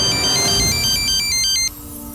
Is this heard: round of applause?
no